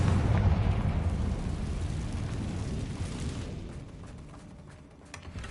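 A Confringo blasting spell from a Hogwarts wizarding video game, a loud rumbling explosion that opens strongly and slowly decays over several seconds into a softer, fading roar.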